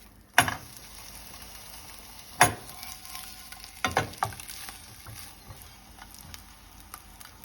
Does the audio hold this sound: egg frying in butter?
yes